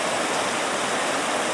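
A newly formed waterfall in a creek bottom after flooding rushes with a steady broadband roar, close and continuous, with no voices.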